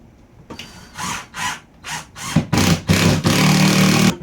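A power drill drives screws into a shelf mounted above a TV, running in short bursts that build into a longer sustained whir.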